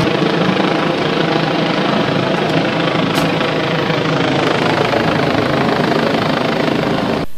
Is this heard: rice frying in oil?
no